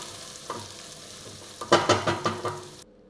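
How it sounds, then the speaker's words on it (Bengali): Spice masala fries and is stirred in a pan for a paneer biryani, with a soft sizzle and several close scraping strokes in quick succession before it cuts off. "এবার মশলাটা ভালো করে ভাজতে রেখে দেবো"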